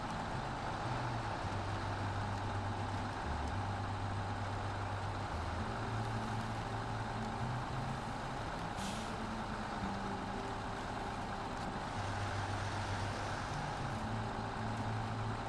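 A heavy truck engine in a driving video game drones steadily, its low pitch rising and falling as it revs and shifts, with a constant hiss of road and air noise.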